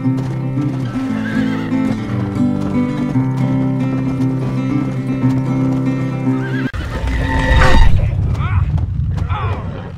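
A horse in the Red Dead Redemption video game whinnies loudly over steady hoofbeats and a rumbling, musical background, with a second sharper neigh near the end.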